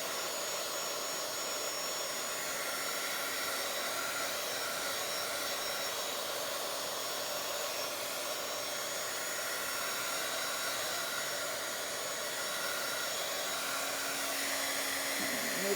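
A hair dryer blows steadily on a stencil texture piece at a craft table, giving an even, continuous whooshing roar that holds for the whole stretch with no talk over it.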